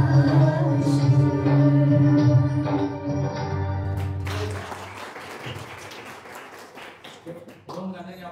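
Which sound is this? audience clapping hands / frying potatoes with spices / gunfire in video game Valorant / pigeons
audience clapping hands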